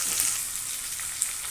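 Chopped onion and tomato frying in a pan for egg tarka, an even close sizzle with faint stirring ticks and no speech.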